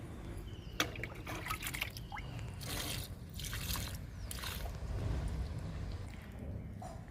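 Liquid fertilizer being poured onto a potted plant, a soft trickle and splash of liquid onto soil, faint and close, with a few small taps and bumps against a steady low background.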